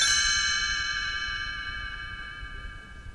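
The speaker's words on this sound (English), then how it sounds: "You will know it is time to turn the page when you hear the chimes ring like this." A chime rings once as a page-turn signal in a read-along storybook, a clear bright strike whose tones linger and slowly fade over a few seconds, alone with no talking.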